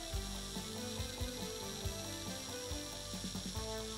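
Hand sanding a Vectrex joystick port connector with sandpaper: soft, faint rhythmic scratching strokes repeating about twice a second, close up and quiet under a steady background hum.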